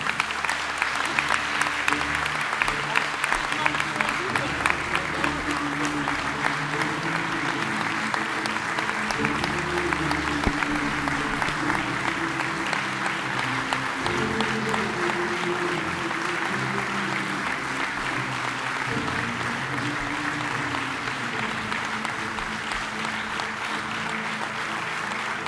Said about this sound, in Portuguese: Um forte aplauso para André Rijo.